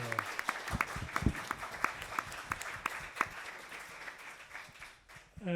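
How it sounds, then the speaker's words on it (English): A film festival masterclass audience gives welcoming applause, a thinning patter of individual claps with distinct sharp hits that taper off toward the end. "give a warm welcoming applause, first of all, to warm the atmosphere"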